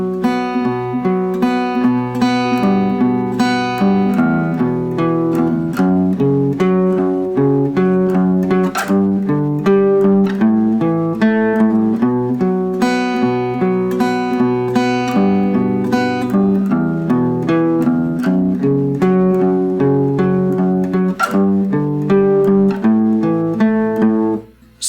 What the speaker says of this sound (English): So here's what the riff sounds like if we don't put the slide in it.